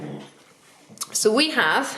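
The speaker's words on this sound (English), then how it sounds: "that's my dog being demanding because she thinks she needs 3 meals a day" A pet dog whining for food, rising and falling whimpers close by, heard as someone speaks over them.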